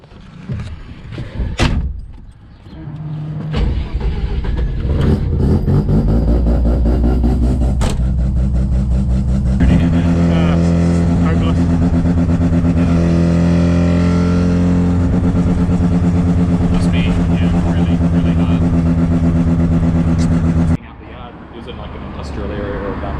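Rotary-engine Mazda wagon with a ported 13B pulling away and cruising, its engine droning loud and steady from inside the cabin after a few thumps and revs, with people talking over it.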